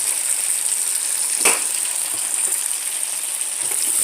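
Halibut fish dinner with snow peas and garlic simmering in a pan, a steady soft sizzle and bubbling hiss running evenly throughout, with one brief louder crackle partway through.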